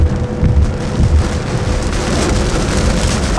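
Heavy rain pours steadily and loudly, a dense continuous roar of drops drumming on a surface with no let-up.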